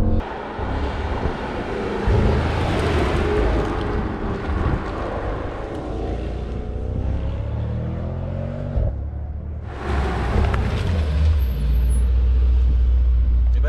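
A powerful car engine roars loudly and steadily, revving up with rising pitch, dropping off briefly, then surging again.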